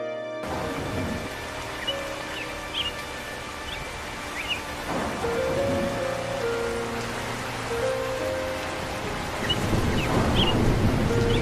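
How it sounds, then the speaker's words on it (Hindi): Cartoon rain falls steadily as a broad, continuous patter while sustained background music notes play, the downpour swelling slightly louder toward the end. "इस बार बारिश की बूंदें घर में आ रही है।"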